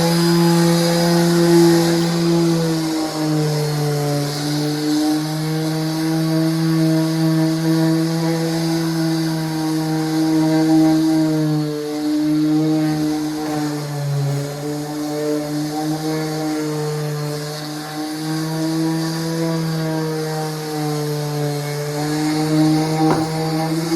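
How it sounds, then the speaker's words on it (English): A power sander works steadily across old, sticky finish on basement stairs, a continuous loud droning whine with a slightly wavering pitch that holds for the whole stretch, with no talking. "I'm going to try to sand some of this stuff down"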